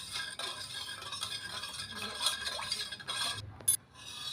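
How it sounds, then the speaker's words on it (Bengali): Salt being stirred into water in a bowl, a soft continuous swishing and scraping with faint clinks, close and fairly quiet, ending in a brief sharper knock. "লবণটা জলের সঙ্গে ভালো করে মিশিয়ে নিচ্ছি।"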